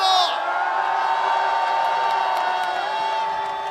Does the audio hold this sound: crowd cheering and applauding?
yes